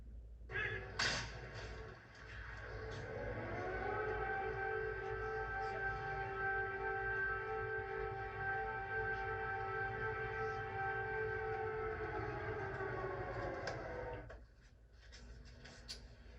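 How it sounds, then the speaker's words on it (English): A long, steady wailing air raid siren in Kyiv holds a sustained tone for over ten seconds in the background, then fades out near the end. "Note the air raid sirens in the background."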